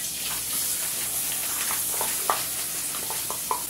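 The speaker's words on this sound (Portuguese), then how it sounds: "Ó, vou colocar nossa cebola aqui, nosso alho, misturadinho." Onion and garlic fry in oil in a pan, a steady close sizzle with scattered pops and crackles throughout, no voices.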